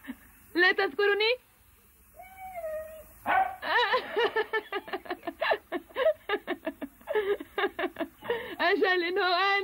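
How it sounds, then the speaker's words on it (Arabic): A cartoon dog barks, yips and whimpers in rapid bursts, and a voice in the scene speaks in Arabic between and over the barking. "الكلب بوبي ثانية"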